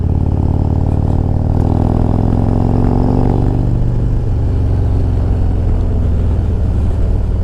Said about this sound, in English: you could just hear how much deeper the bike is